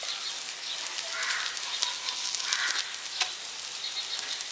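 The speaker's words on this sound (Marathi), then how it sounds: "पॅटीस आपले दोन्ही बाजूनी छान असे खरपूस भाजून झालेले आहेत" Pea patties pan-frying until crisp on both sides, a steady, fairly quiet hiss of oil with a few faint crackles and light clicks, no talking.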